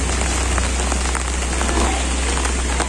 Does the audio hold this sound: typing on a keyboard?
no